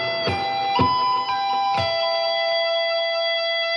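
A distorted electric guitar plays a quick sweep-picked arpeggio through an effects unit, with a few sharp picked attacks in the first two seconds and then notes ringing out and sustaining alone.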